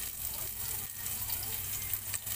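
Curry leaves and finely chopped green chili sizzle steadily in hot oil, a continuous close frying hiss with a few soft crackles and no talk.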